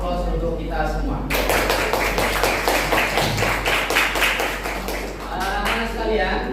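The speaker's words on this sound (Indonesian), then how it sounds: "Aplaus untuk kita semua." Applause from students in a classroom, dense clapping that starts abruptly and keeps going for several seconds, with a voice speaking over it at the start and near the end.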